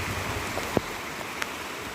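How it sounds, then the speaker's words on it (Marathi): Heavy monsoon rain in rural Konkan, a dense, even hiss of downpour filling the air, with a couple of sharper drip hits standing out briefly. "खूप खतरनाक आहे पाऊस."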